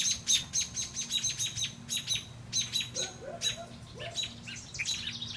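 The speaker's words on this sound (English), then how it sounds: "Caught this baby bird in my shed." A baby bird caught in a shed chirps rapidly, with high, close, repeated tweets in quick bursts. Other chirping birds join in, and a few lower calls come in the middle.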